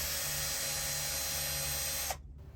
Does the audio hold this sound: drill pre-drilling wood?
yes